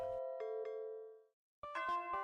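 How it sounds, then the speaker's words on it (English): A school lunch bell in a video game rings out as a multi-note electronic chime: a sustained tone followed by two softer repeats, a brief pause, then a brighter run of chime notes. "Oh, that was the lunch bell."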